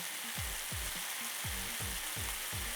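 Lotus root pieces stir-fried in oil in a pan for kinpira, giving a steady close sizzle broken by regular scraping stirs about every half second, with no voices.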